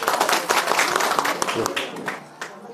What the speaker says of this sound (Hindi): थोड़ा ताली बजा दीजिए अपने,